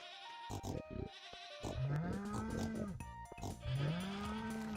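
Farm animals bleat and moo in the Stardew Valley video game, several drawn-out animal calls overlapping at close range over soft background music.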